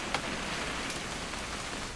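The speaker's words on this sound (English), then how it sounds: "It's gonna rain the whole weekend, isn't it?" Steady rain pours in the video game What Remains of Edith Finch, a dense even hiss of drops hitting surfaces with a brief sharper patter near the start, continuous and alone.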